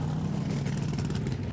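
An original V8 muscle car engine rumbles in a deep, steady roar for about a second and a half before cutting off abruptly.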